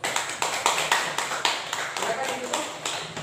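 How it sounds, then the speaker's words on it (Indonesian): A class group claps for the first discussion group in a classroom, rhythmic and fairly close, several hands in a steady pulsing beat over about three seconds. "Kita beri tepuk tangan dulu untuk kelompok 1."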